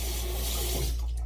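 Hot water runs steadily and loudly from a tap, a continuous close-up rush and splash used to bloom a fresh puck of shaving soap.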